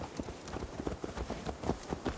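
Horse hooves clip-clop in Assassin's Creed Valhalla, a quick, steady patter of hoofbeats at low volume with no talk over them.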